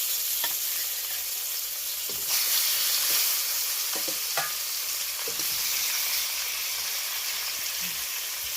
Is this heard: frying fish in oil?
yes